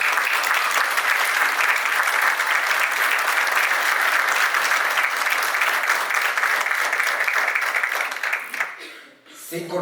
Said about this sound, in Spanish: por favor, nuevamente un gran aplauso para ti